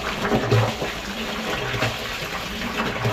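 Water gushes steadily into a tank at a coin-operated carwash, a continuous close rushing flow with no pauses and no voices over it.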